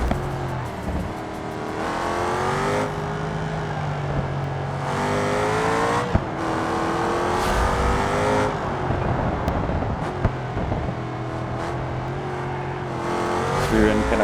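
A car in a BeamNG.drive career-mode time trial holds a steady, loud engine drone at speed, with pitch climbing and then dropping through gear changes and a few sharp clicks along the way.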